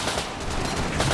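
Gunfire from WWII infantry in a war documentary, a dense, continuous burst of rattling shots filling the short clip at steady loudness with no voices.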